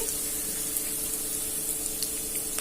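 Flowers being rinsed in a basin of water after soaking in buttermilk, a steady close splashing and trickling wash with no talk.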